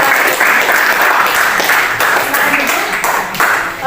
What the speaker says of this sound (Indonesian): Kita tepuk tangan dulu untuk kelompok 5.